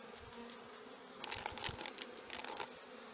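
Honey bees buzz close by as colonies are combined, a soft steady hum that swells with louder passing buzzes of individual bees in the second half.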